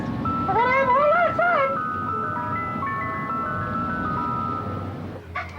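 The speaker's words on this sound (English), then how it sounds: "It's an ice cream truck." An ice cream truck plays its tinkling electronic jingle, a looping melody that rings out loud and clear at first, then carries on as a softer sustained tune over background noise.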